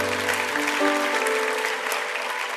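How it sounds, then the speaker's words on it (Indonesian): A church congregation applauding, dense and sustained clapping filling the room, loud and continuous for the whole stretch, with a held musical tone underneath. "beri tepuk tangan untuk Tuhan Yesus"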